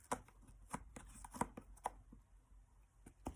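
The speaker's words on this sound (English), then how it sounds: "I'm going to begin by unsecuring my 2 loose loom strings that I wrapped around the outer flaps" String unwound from the flaps of a cardboard weaving loom gives soft, scattered taps and light rustles spaced irregularly, quiet and close with no talk.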